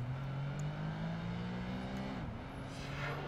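A green BMW M3 engine in the racing game Project Gotham Racing 2 drones steadily for a few seconds, with a pitch that holds and then briefly dips as if shifting gears. The sound is continuous and moderately loud, and no one talks over it.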